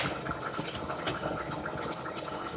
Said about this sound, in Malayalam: വെളിച്ചെണ്ണ ഒഴിക്കാം.